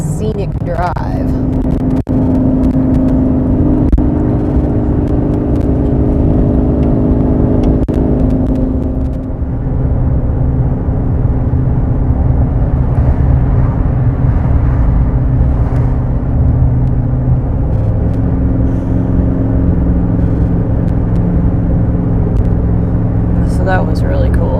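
A car cruises along a scenic road running between rock cliffs near Horseshoe Bend, Arizona, its steady engine rumble and road noise continuous throughout, with people talking over it.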